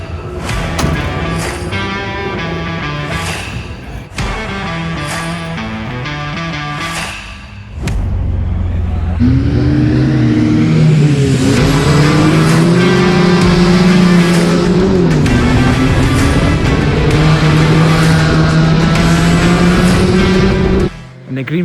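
Race cars roar off the start of the all-comers race at Cowdenbeath Racewall, a loud sustained engine drone with shifting pitch after a sharp surge, following earlier engine noise; music-like tones and voices blend faintly throughout.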